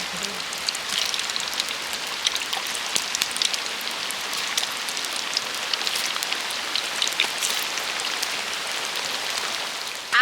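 Raw potato snack deep-frying in a pan of oil: a dense, continuous crackling sizzle like rain on a surface, close and even throughout, with no speech.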